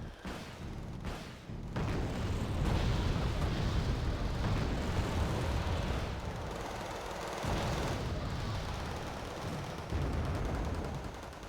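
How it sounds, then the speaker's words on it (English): Autocannon fire and explosions from the Type 87 anti-aircraft vehicle in the war game Wargame: Red Dragon, heard as a dense, continuous roar of gunfire and blasts that stays loud throughout with no talking. "Well, that's the autocannon fire from the Hachinanashiki."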